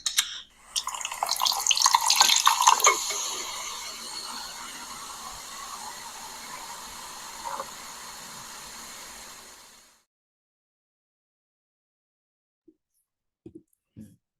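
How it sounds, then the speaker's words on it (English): Ice cold Coca-Cola being opened and poured into a glass, a sharp crack followed by a steady fizzing pour and hiss that fades out, then near silence with a few faint taps. "Cracking open an ice cold Coca-Cola."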